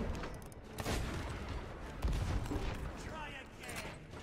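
Cannons fired from ships in the pirate game Sea of Thieves, with several loud booming blasts, sharpest near the start and again midway, over a rumbling backdrop while voices talk underneath.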